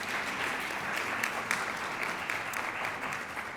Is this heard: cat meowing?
no